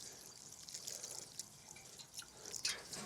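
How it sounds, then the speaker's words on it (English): Water is poured into a garden trench dug for planting sweet peas. Soft splashes and drips fall at close range, irregular and fairly quiet, with no voices. "I'm just going to water these sweet peas before we plant them"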